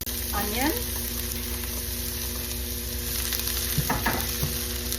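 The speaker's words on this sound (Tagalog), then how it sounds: "So now we can start frying the garlic" Garlic frying in a pan, with a loud, steady sizzle running throughout and occasional scraping stir sounds over it.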